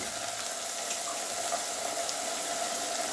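Eggplant pieces and fried onions sizzling together in a pan, a loud, even hiss of frying that holds steady throughout without talk.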